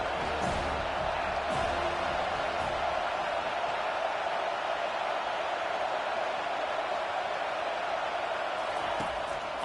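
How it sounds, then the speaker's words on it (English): Football stadium crowd at a JMU at Florida State game, a broad, steady roar of cheering and noise filling the whole stretch without pause. "This crowd knows when to bring it."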